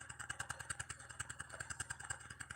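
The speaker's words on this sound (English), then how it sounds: "We got to hear some of the youngins over there honking their horns and revving up their vehicles." Young drivers' vehicles with a motorcycle-like engine running in a fast, even throbbing rhythm, moderately distant and fairly quiet; no distinct horn blasts stand out.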